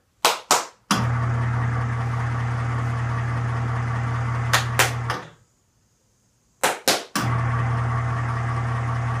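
Two sharp hand claps switch on a workbench clapper and an electric hoist motor hums loudly; two more claps cut it to silence, then claps start the hum again.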